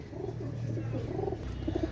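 Teddy pigeon chicks give soft, low, muffled coos close by, a few short burbling calls over a faint steady background.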